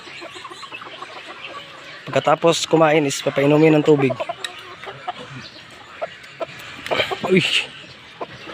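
Fighting-cock chickens cluck and call near their coop after being fed, with several close bursts amid someone talking throughout.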